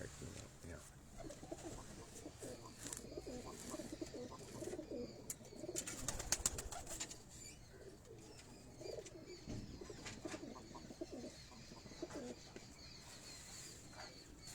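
Dub pigeons cooing softly in a loft setting, low repeated coos under ongoing men's conversation and background bustle.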